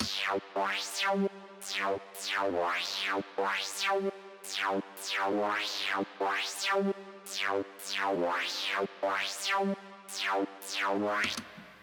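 A resonant bandpass synth tone made with the Harmor synthesizer, its filter sweeping up and down in a steady repeating pattern, rhythmic and bright, playing alone.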